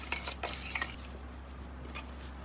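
Semolina batter for tandoori momos is stirred with warm water, producing faint, brief scraping and clinking strokes against a bowl over a low steady hum.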